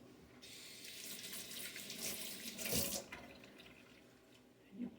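A kitchen tap runs steadily as water is added while making pecan pie, a soft continuous hiss and splash that swells briefly midway, with no talking.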